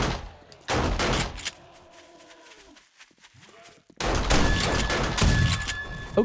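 Bursts of rapid gunfire from 7 Days to Die, a game, crack in loud clusters, with quieter moments and a short lull before a heavy, dense volley near the end.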